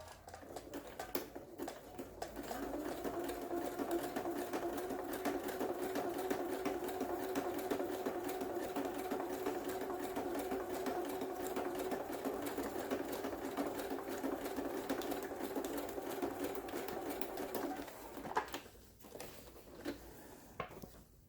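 An electric sewing machine runs a zigzag stitch through paper for a junk journal pocket card, giving a steady, close mechanical whirr that lasts about fifteen seconds before stopping, with a few clicks around it and no voices.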